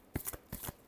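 Tarot cards shuffled close up in a quiet room, a few quick riffling bursts lasting about a second.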